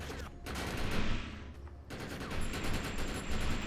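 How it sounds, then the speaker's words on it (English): Gunfire crackles in the sci-fi shooter Defiance, a rapid series of sharp shots and automatic bursts that comes in two waves around a brief lull, fairly quiet overall. "I'm getting shot at!"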